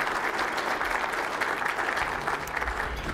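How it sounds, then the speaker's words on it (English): Steady applause from an audience at a leadership event fills the space, dense and continuous at a moderate level with no talking over it. "Please give them all a warm round of applause."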